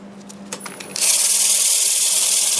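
Sandpaper pressed against a spinning red bud wood turning on a lathe, working through grits from 120 to 400. A short tapping start gives way to a loud, steady, close-up abrasive hiss that holds without a break.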